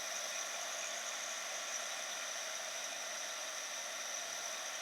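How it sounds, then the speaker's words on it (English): An embossing heat tool blows hot air over ink-painted rice paper in a steady, even whir. It holds at a constant level throughout and sounds close by, with no talking. "embossing tool and we're going to come along and we're going to heat up"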